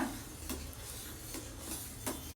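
Milk stirred in a pot as it curdles for a homemade sweet, a few soft spoon scrapes and light clinks against the vessel at a slow, uneven pace, faint and close, with no talk.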